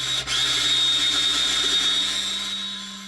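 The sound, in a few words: power drill drilling a bank safe deposit box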